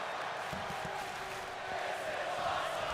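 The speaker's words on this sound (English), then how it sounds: "The crowd already chanting" In the WWE 2K24 wrestling video game, an arena crowd roars and chants as a steady, dense wall of voices that swells slightly toward the end.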